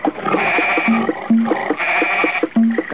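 Goat or sheep bleats from a 1988 Brazilian TV commercial for a livestock-raising magazine covering pigs, goats and sheep, several wavering calls in close succession over a short, dense stretch with no speech.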